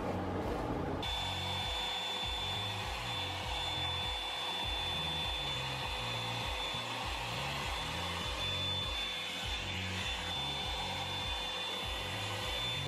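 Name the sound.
hair dryer blowing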